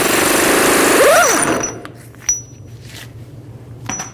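A pneumatic impact wrench with a 36mm socket rattles loudly, then stops, removing the front axle nut on a 1999-2007 Chevy Silverado 2500HD truck, followed by a few faint clinks nearby.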